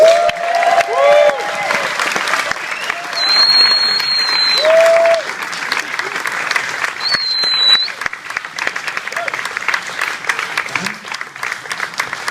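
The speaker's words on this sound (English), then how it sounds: "Please welcome with a big round of applause from the horror classic, An American Werewolf in London, director John Landis" Sustained audience applause with scattered cheers and whistles welcomes film director John Landis at a Halloween Horror Nights 2013 press Q&A, a dense crowd clapping steadily for about twelve seconds before thinning toward the end.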